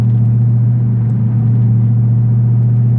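Modified 2006 Ford Mustang GT V8 with cams, long-tube headers, aftermarket exhaust, throttle body and cold air intake, idling with a loud, deep, steady rumble close by and no talk.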